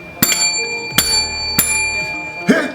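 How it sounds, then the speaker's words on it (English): Bright notification bell dings ring four times at a steady pace, each a sharp metallic strike with a shimmering tail, loud and clear with no talking over them. "Hit that bell so you too can be notified next time when I upload another delicious recipe"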